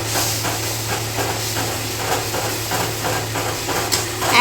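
Ground spices soaked in water sizzling steadily in hot oil while cooking a Bengali tel koi fish curry, a continuous broadband hiss with faint rhythmic bubbling pops and a low steady hum underneath.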